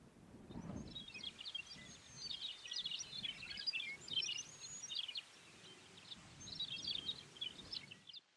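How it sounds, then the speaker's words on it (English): Birds chirp and sing continuously in a quiet prairie campsite setting, their high twittering calls fairly faint, with a soft low thump near the start. "listening to the birds sing"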